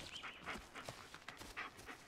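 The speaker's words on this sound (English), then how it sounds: "Okay, this is Bullet, your right hand dog" A dog pants in quick rhythmic bursts in the Blair Witch video game, close and fairly quiet, with brief whimpering breaths and no speech.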